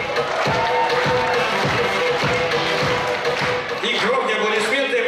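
Dense audience applause fills a hall at a school KVN comedy league event in the Republic of Buryatia, steady and continuous beneath a presenter's amplified voice.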